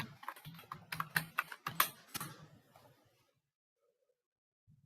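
Rapid typing on a computer keyboard entering a search term, a burst of close, crisp keystrokes for about three seconds, then near silence with a faint click at the end.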